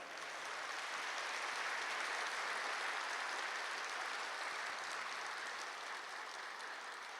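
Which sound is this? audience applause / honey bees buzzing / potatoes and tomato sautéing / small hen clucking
audience applause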